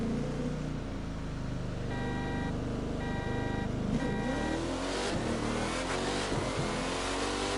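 A Lamborghini Murcielago accelerating hard in a roll race against other high-powered cars, a steady loud engine roar holding throughout, with a few brief tonal chirps partway through.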